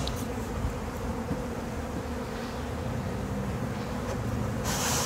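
Honey bees buzz densely and continuously while a nuc colony is installed into a hive, a close, loud steady drone with no talking.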